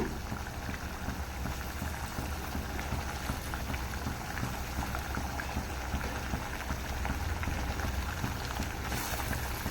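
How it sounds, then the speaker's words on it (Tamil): Egg gravy bubbles in a pot, a dense, steady rolling boil with crackling pops that continues evenly without voices. "இது நல்லா கொதிக்கிட்டு நம்ம முட்டையை அப்புறம் சேர்த்து விட்டுடலாம்"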